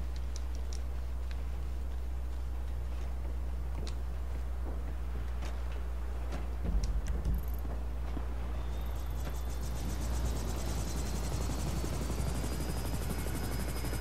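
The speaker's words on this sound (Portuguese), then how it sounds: "o helicóptero ambulância tá lá em cima" An ambulance helicopter flies overhead in GTA V Online, a steady low rotor drone that continues throughout, with a few faint clicks and a rising whine toward the end.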